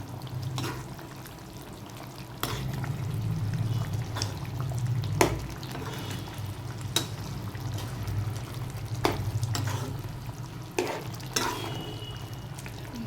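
A utensil stirs and mixes food in a pan over low frying sizzle, with occasional scraping clinks against the pan at irregular intervals, close and steady.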